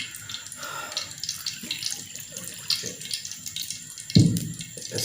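Water poured into semolina for makhaddi halwa, a steady splashing trickle running throughout at close range, with a louder gush near the end.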